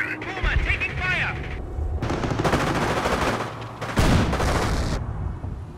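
Gunfire rattles almost without pause through a Company of Heroes battle in the Falaise Pocket, with loud bursts and heavier blasts near the end, while soldiers' voices call out over the fighting.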